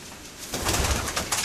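A racing pigeon coos in low, soft bursts that start after a brief quiet moment, repeating a few times close by.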